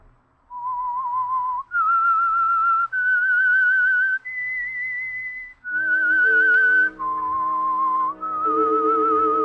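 A lone melodic whistle carries the theme for the old-time radio mystery The Whistler, clear and close, held notes stepping up and down in a slow tune with short breaths between phrases.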